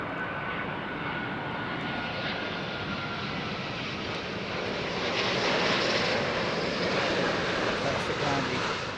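A model aircraft engine drones steadily through a landing in gusty, blustery wind, with broadband wind rush over the microphone and a slight swell in engine level toward the end.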